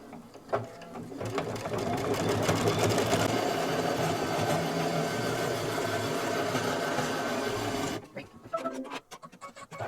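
A quilting sewing machine runs steadily for about six seconds, stitching a final border that tacks the quilt down all the way around, with short starts and stops at either end.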